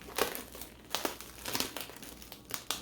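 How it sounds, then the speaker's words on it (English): Plastic wrap for making a ground beef burger patty crinkles and crackles in several quick, soft bursts close by. "Plastic wrap here."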